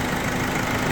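A 2016 Opel Insignia diesel engine with about 250,000 kilometers idles in the open engine bay, giving a steady, loud, continuous rumble with no breaks for the full second.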